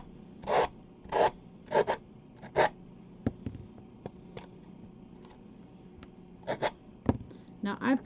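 Hand sanding of a small craft piece, short raspy rubbing strokes in quick bursts, then a pause filled with faint ticks and taps, with a few more strokes near the end; close and fairly quiet.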